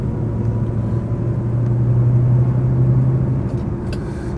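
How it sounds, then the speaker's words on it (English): A Rover P6 3500S pulls uphill in third gear, its engine giving a loud, steady low drone that holds an even pitch for several seconds before easing slightly. "This P6 into third. Once again, let it drag itself up the hill with the torque."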